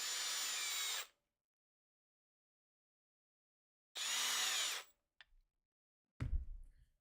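A power drill whirs in two bursts, about a second each and separated by silence, while an Axial SCX6 RC chassis is prepared. A few light clicks and a clattering knock follow.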